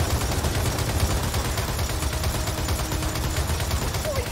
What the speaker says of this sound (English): someone mount that turret and throw some hell down there